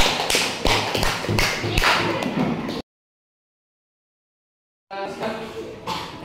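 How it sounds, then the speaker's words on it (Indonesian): A classroom of students claps for a reading group in a brisk, fairly close burst of applause that cuts off abruptly into silence before more sound resumes. "Ya, tepuk tangan untuk kelompok 3."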